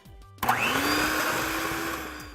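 An electric mixer starts up and runs steadily, beating softened cream cheese and butter with powdered sugar into a smooth frosting for a banana cake, the motor whirring loud and close without a break.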